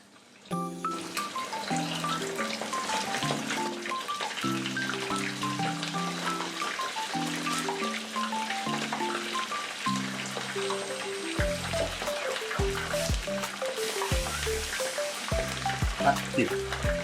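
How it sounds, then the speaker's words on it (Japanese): Pieces of rockfish (mebaru) karaage deep-frying in hot oil, a steady dense crackle that runs throughout, under background music with a tonal melody and brief voices. "では気を取り直して揚げていきたいと思います"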